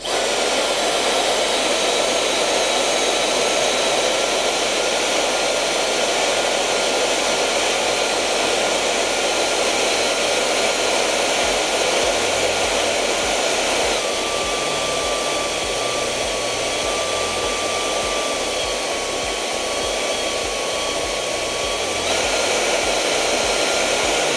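A hair dryer, the Tineco Moda One, blows loudly and continuously, its pitch and airflow shifting partway through as the setting changes, with a faint whine added later.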